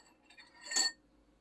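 A suction-feed paint cup is set into a tool cleaner with a single short clink of metal and glass, close and fairly quiet, against a near-silent background.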